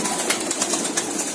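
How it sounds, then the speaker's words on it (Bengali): Pigeons in a loft coo and rustle close by, a soft busy murmur with brief flutters and scattered calls over a short moment, no voices. "দর্শক দেখতে পাচ্ছেন কবুতরগুলো রাখা হয়েছে, খাঁচাগুলো সুন্দর করে তৈরি করা হয়েছে।"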